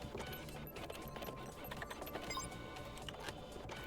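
A printer in the spy game Deceive Inc chatters with a fast mechanical rattle and whir, continuous and fairly quiet across the whole stretch.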